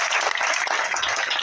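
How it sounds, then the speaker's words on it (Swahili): An audience at a youth gathering bursts into dense, sustained applause, many hands clapping at once in a loud, even wash of sound that holds steady throughout. "pigeni makofi mengi sana"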